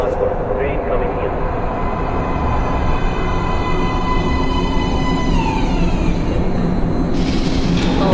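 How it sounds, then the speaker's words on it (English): Subway train pulling into a platform in the video game Metro: Last Light, a loud continuous rumble with whining tones that shift pitch as it arrives, with a voice faintly present in the mix. "Please step away from the edge of the platform. Train coming in."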